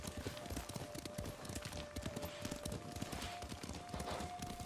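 Horse hooves clip-clop in the Ghost of Tsushima video game, a faint, quick and regular patter of steps on ground, continuing evenly throughout with a thin tonal hum underneath.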